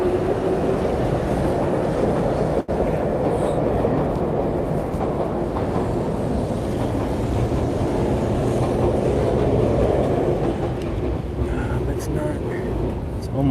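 A train passes through a Tokyo neighborhood during cherry blossom season, a continuous low rumble with rhythmic clickety-clack of the wheels that runs the whole time, along with background street ambience.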